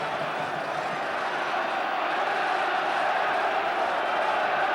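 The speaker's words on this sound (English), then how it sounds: "And listen to the Carrow Road crowd now." The Carrow Road football crowd at Norwich City's 1990 FA Cup fourth-round match against Liverpool makes a steady, swelling roar of cheering that fills the stadium continuously, heard from a distance without clear breaks.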